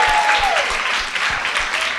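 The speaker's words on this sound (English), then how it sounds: "Let's give our panelists a round of applause." Audience applause for panelists after a live discussion event on creative careers, a steady, dense wash of clapping that fills the whole stretch at close range, with a brief faint voice tone near the start.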